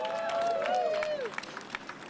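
An outdoor crowd applauds and cheers at a Pride flag raising with the mayor, with a high whoop rising over the clapping before it thins into scattered claps and voices.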